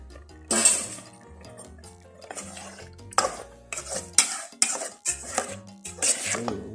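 Coconut cream poured into a pot and stirred while cooking a Thai dish of carp roe with pickled crab, with clinks of a utensil against the pot and scraping stirs coming in irregular bursts, close by and moderately loud.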